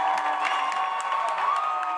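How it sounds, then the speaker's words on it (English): A basketball crowd at a boys' varsity region final roars in sustained, loud cheers and shouts after a foul call, a dense wall of voices without pause. "This Dragon crowd is livid."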